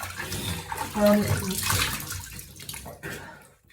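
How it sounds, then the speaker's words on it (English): Running water from a tap splashes while a face is wetted with soapy water during makeup removal, a steady wash of flow with brief splashing, moderately close. "I'm going to wet my face"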